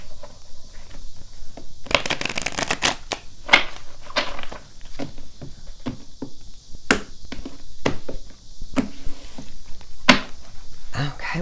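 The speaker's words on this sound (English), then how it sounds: "Let's get one more shuffle." A deck of oracle cards is shuffled by hand in a burst of rapid riffling flutters, followed by scattered taps and slaps of cards, close and crisp, with a voice speaking at times.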